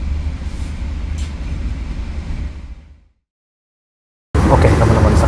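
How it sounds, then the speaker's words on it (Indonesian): KA Logawa economy New Generation passenger train pulling out of Tanggul station toward Jember, heard as a loud, steady rolling rumble that cuts to silence for about a second before resuming at full strength. "sekarang sudah diberangkatkan kembali dari stasiun Tanggul dan sesaat lagi kereta api Logawa akan mengakhiri perjalanannya di stasiun Jember"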